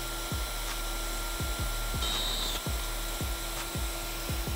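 An electric router cuts a wooden toolbox lid, giving a steady high whine with regular rhythmic thumps as the bit bites into the wood, while the bit breaks partway through.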